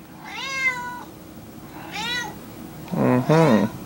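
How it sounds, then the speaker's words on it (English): A cat meows three times, close and clear, with drawn-out calls and short pauses between them, the last one louder and lower. "Meaningful dialogue with Boo Kitty."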